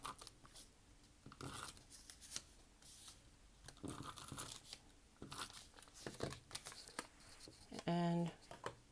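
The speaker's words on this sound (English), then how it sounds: "Put some tape on that." Tape is torn and pressed onto paper while a spring journal tag is made: short crinkling tears and rustles, close and intermittent, ending in a brief strip pulled off the roll.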